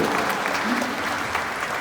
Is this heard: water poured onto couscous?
no